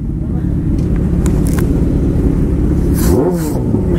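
A Kawasaki motorcycle engine drones steadily on the road, then gives a sharp rev that climbs and drops near the end, loud and close throughout.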